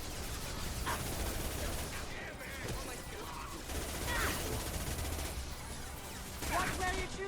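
Rapid bursts of gunfire from the video game Mass Effect 2 crackle through a busy firefight, several volleys overlapping with other game sounds, fairly quiet overall.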